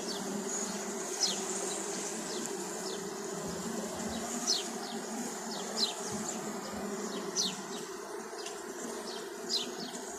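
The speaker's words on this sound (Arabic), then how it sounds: "سامعين صوت هيجان النحل؟" Agitated honeybees buzz in a dense, continuous drone at an apiary hive, with sharper individual buzzes sweeping past the microphone every second or so; no one speaks.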